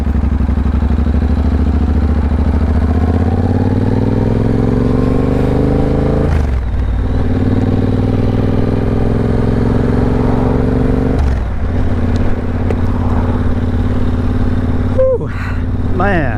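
Triumph Bobber motorcycle engine revving and pulling through rising gears as it accelerates on a ride, loud and close with steady drone, shift dips around six and eleven seconds, and rushing wind noise throughout.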